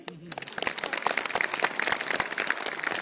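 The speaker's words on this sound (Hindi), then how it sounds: "एक बार जोरदार ताली" An audience at a motivational seminar breaks into dense, enthusiastic applause that builds and keeps going, with a voice heard briefly at the start.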